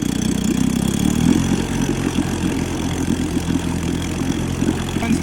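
A 1956 Johnson 7.5 hp outboard motor runs in a test barrel, a steady loud rumbling two-stroke drone with a busy, slightly uneven throb, close up with no talking.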